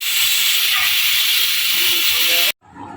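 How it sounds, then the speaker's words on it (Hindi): A loud, continuous hiss of escaping steam from a pressure cooker fills most of the clip, then cuts off abruptly, leaving quieter room noise. "ये देखिए कुकर की सीटियाँ बज रही थी, मैंने बंद कर दिया"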